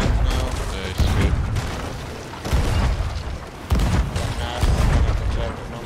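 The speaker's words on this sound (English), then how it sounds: "Somebody shooting cannons. We got dudes on cannons now. Shooting cannons now." Ship cannons in the pirate video game Sea of Thieves fire in a series of heavy booms, about four loud blasts spaced roughly a second or more apart, while players talk over the battle.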